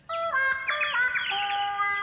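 Cartoon birds chirp and tweet in a bright, clear run of high warbling calls, loud and close, continuing steadily without any talking.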